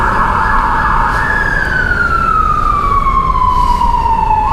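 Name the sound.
ambulance siren in a street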